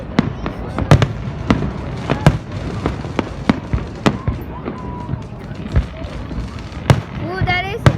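A fireworks show's grand finale, with rapid, loud bursts and cracks popping in quick succession, some whistling rises near the end, and a person talking faintly beneath the barrage.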